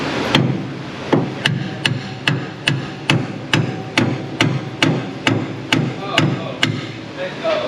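An Icon Persuader hammer pounds metal in a shop working on a 1960 Plymouth Fury: about fifteen sharp, close, loud blows at a steady, even rhythm, with no talk.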